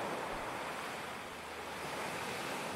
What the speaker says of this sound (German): Das Wasser ist im Stream auch laut